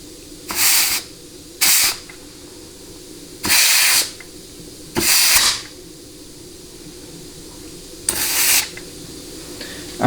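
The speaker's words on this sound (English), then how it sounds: "the other thing obviously you want to be careful of, as you just saw, is fluid just flying back out at you." Automatic transmission fluid from a Ford C6 sprays out in five sharp hissing bursts during teardown, each lasting about half a second, separated by quiet shop background.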